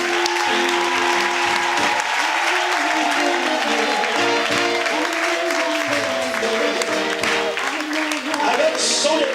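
A church congregation applauds and cheers in steady, dense clapping that fills the space, with voices and music carrying through it at close range.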